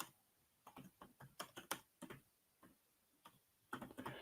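Quiet, close-up typing on a computer keyboard, with irregular bursts of light key clicks and short pauses between them.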